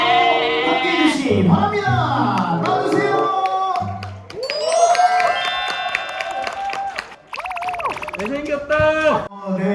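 An audience at a travel brand ambassador welcome party erupts in excited cheering, shrieks and applause as actor Son Suk-ku enters. The crowd noise is loud and sustained, with high voices swelling repeatedly over the clapping.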